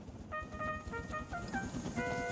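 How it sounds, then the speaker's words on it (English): A tooting whistle sounds in several short bursts over a low rumbling engine, moderately distant and fairly quiet. "Then he heard a whistle."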